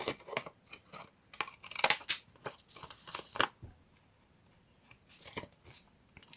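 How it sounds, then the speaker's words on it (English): Scissors snip through material up close in a quick run of crisp cuts, then fall quiet before a few more faint snips near the end. "I'm going to cut it"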